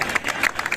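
Crowd applause at a crowded evening Panevin bonfire gathering, a short burst of dense clapping.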